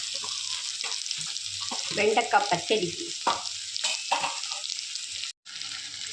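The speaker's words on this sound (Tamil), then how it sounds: "வெண்டைக்காய் நறுக்கி வச்சுருக்கேன் அதையும் போட்டு நல்லா எல்லாத்தையும் ஒன்று போல் வதக்கணுங்க" Steady sizzling of okra and onions frying in a pan, with occasional stirring scrapes and someone briefly speaking over it.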